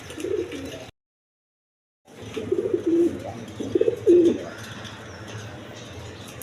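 Domestic pigeons kept for sale cooing nearby, several soft throaty coos rising over a steady low background hum after a brief silent gap.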